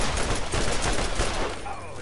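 Rapid gunfire from a self-recharging battery-powered gun in the Borderlands video game, a dense continuous burst of loud shots that eases off slightly near the end.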